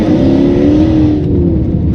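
A Range Rover L322 with a supercharged 5.0 V8 in its loud exhaust mode drones steadily and loudly up close on a dirt road, a constant engine tone without breaks.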